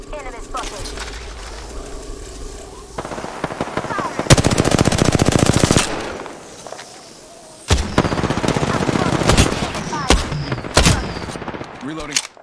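Bursts of automatic gunfire in the Apex Legends battle royale game, loud and near, several long sustained volleys broken by short gaps and single sharp shots.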